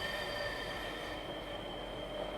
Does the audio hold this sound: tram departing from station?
yes